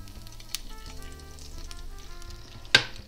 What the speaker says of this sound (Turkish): Şimdi yağlarla birlikte kavurmaya başlıyoruz.